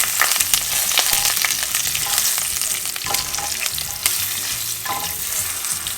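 Curry leaves spluttering in hot oil for a Maharashtrian spinach sabzi give off a loud, continuous crackling sizzle with sharp pops scattered throughout, close and with no talking.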